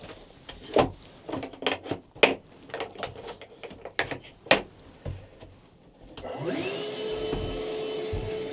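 After several seconds of scattered knocks and clunks at a Northern Minnesota deer hunting camp, a vacuum cleaner whirs up and runs with a steady, loud drone to the end.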